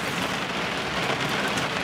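Rain falls steadily outside, a constant broadband hiss of drops striking surfaces, even in loudness from start to finish, with no voices present.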